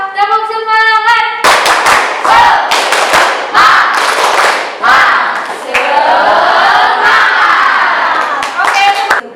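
A class chants and claps in rhythm to a spirited Indonesian classroom clapping chant, loud group voices with sharp bursts of hand claps, opening with a tonal electronic tone.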